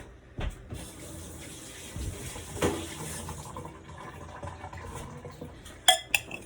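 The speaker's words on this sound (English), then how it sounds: "let me rinse out my spoon" A spoon is rinsed under a running kitchen tap: a quiet, steady stream of water with a few sharp metallic clinks near the end.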